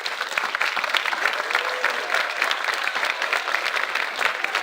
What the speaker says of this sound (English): let's give our students one more round of applause for all their hard work